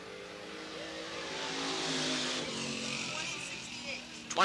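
A 1977 Camaro race car circles Eugene Speedway in 1989, its engine a sustained, rising and falling roar passing at middle distance, while a track announcer talks over it throughout.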